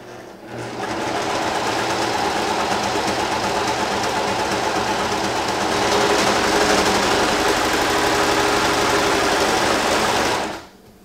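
A Brother 1034DX serger stitches through a strip of test fabric in one steady, loud mechanical whir for about ten seconds, with no talking, then stops abruptly.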